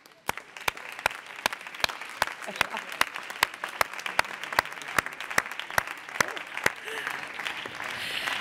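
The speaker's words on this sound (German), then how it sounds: "ich möchte euch alle, meine Kolleginnen und Kollegen, einladen, dass wir gemeinsam einen Applaus spenden" Parliament members applaud teachers, pupils and parents at the end of the school year. The clapping stays steady and moderate throughout, with sharp periodic clicks cutting through it.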